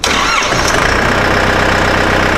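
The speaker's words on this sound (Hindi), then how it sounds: "ट्रैक्टर को स्टार्ट करते ही" A tractor engine starts up and settles into a loud, steady running rumble, close by and continuous, with no talking over it.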